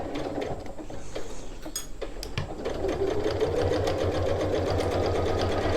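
A sewing machine stitches a tote bag seam, starting with a few slow clicks and locking stitches before settling into a steady, faster run up close.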